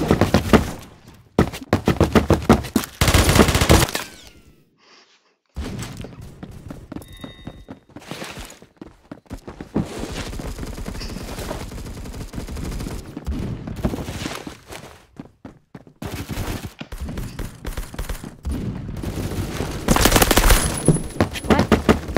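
Rapid automatic gunfire bursts from the Phantom Forces shooter game, loud and close, coming in several clustered volleys separated by short quiet gaps, with no talking over them.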